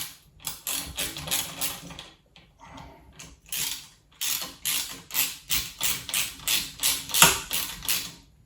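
A 5mm Allen key tightens a bolt on an aluminium scooter, giving a series of quick, close ratcheting clicks in short bursts with brief pauses between strokes.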